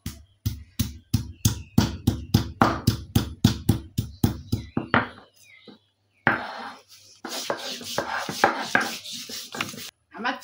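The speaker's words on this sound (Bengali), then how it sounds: "এইদিকে আমি মশলাটা বেটে নিই।" Spices are ground by hand on a grinding stone in a home kitchen, heard as a close, steady run of sharp rhythmic knocks and scrapes that gives way to quieter rubbing and grinding with short pauses.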